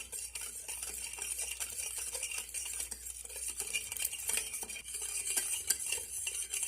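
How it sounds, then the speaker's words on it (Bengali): A hand whisk stirs sugar into milk in a bowl, steady close scraping and clinking against the sides in a continuous rhythm, with no talking. "এবার এর সাহায্যে আমি দুধের সঙ্গে চিনিটা খুব ভালো করে মিশিয়ে নেব।"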